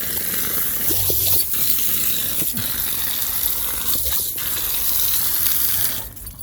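An outdoor faucet spigot keeps leaking, giving a steady hiss of running, spattering water close by with a few faint clinks, fading briefly near the end.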